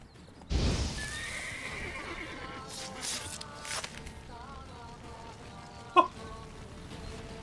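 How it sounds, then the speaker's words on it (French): A horse in The Witcher 3 gives a loud whinnying neigh with a snorting start, and a sharp clip-clop hoof knock follows later against a low game background. "On va faire peur au cheval, tiens."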